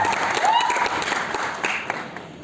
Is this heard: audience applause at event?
yes